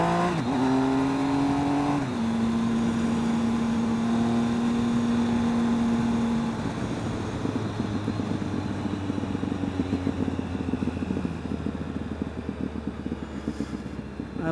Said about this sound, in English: I love that burbling on this deceleration though, that's awesome.